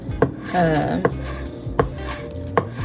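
A knife slices green onion on a cutting board in four crisp, evenly spaced thuds, close and clear. A brief clattering scrape of dishes comes between the first two cuts, and there is no talking.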